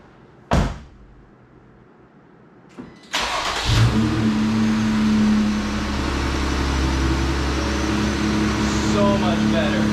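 A Jeep Gladiator with a replaced coil pack: a door thud, then a brief crank as the engine catches and settles into a loud, steady idle close by.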